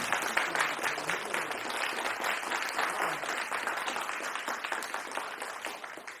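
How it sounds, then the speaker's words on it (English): A live-coding event audience applauds a guest speaker being introduced, producing dense, continuous clapping from a sizable crowd that holds steady and then tapers slightly toward the end, with no talking. "A round of applause for Eskil Steenberg Hall."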